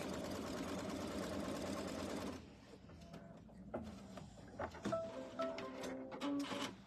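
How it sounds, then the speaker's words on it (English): An embroidery machine stitches a quilt block with a fast, even mechanical whir for a couple of seconds, then stops, leaving quieter handling clatter and light taps. "So once this gets embroidering"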